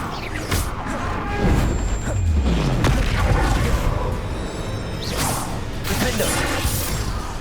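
Bombarda blasting spell in Hogwarts Legacy bursts with booming explosions, crashing debris and whooshes, several loud impacts in quick succession amid game combat effects.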